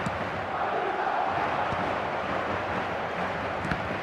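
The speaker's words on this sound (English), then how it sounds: "the crowd level has gone up a notch or 10" Stadium crowd roaring after a goal in the eFootball video game, a dense, sustained wash of cheering and noise that stays loud and steady throughout.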